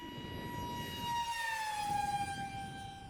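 E-flite Habu SS 50mm electric ducted-fan RC jet making an inverted pass, a thin whining tone that rises then slowly drops in pitch as it passes by, faint against outdoor background noise.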